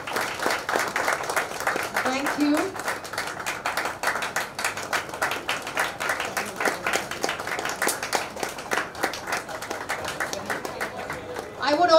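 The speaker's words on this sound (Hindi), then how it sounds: "तालियां बजती रहनी चाहिए." Scattered audience clapping at a Bollywood launch party for an integrative coach and nutritionist, with sharp individual claps running steadily for twelve seconds beneath voices speaking.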